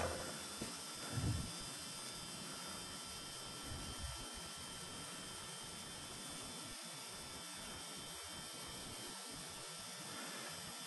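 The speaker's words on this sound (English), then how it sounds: "So we have the motor rebuilt, and you can see how freely it spins." The rebuilt motor of a 1955 Columbia Bell & Howell Model 350 B tape recorder spins freely with a steady, even whir and faint hiss. It sounds close and quiet, after a couple of brief handling bumps at the start.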